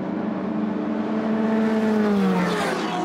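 Race cars, including a Ferrari 250 GT, roaring down the start-finish straight at the Hungaroring during a race, a steady loud engine drone with a rising then falling pitch as a car passes close by.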